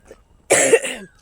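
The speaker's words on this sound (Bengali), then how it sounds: "ঠান্ডা যায় কাশি কমতেই আসে না" A single short, close cough from someone with a lingering cold, sharp and throaty against a quiet background.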